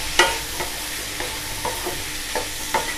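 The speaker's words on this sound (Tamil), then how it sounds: "இதெல்லாம் நல்லா ஃப்ரை பண்ணிவிடுவோம்." Carrots, beans and potatoes frying in a pan for semiya upma, a steady close sizzle broken by several distinct scraping strokes of a spoon at irregular intervals, with no talk.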